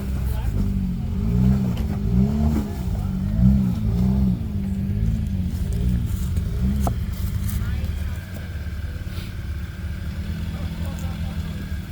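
A pickup truck's engine revs and idles steadily up close while the driver backs out, with a repeating rhythmic drone that eases off near the end; people talk nearby.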